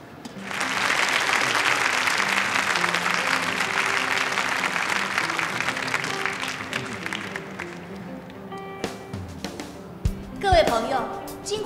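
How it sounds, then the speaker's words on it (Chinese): Audience at a competition breaks into loud sustained applause, many hands clapping densely for several seconds before tapering off, followed by scattered quieter sounds and a short musical sting near the end. "掌声有请"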